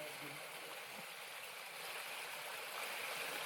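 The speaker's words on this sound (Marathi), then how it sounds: "लय मस्त पाणी उतरतं इथं." Water rushes steadily down a mountain stream in foggy hills, a continuous broad hiss that holds even throughout at a moderate distance.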